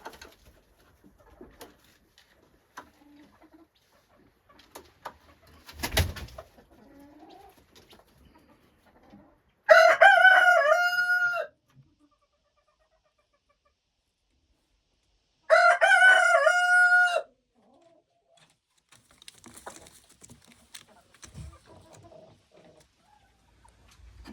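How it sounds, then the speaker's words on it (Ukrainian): A rooster crows loudly twice on a village farm in January, each a long strained call several seconds apart, with quiet rustling and faint clucking of hens and guinea fowl around them. "там молоді"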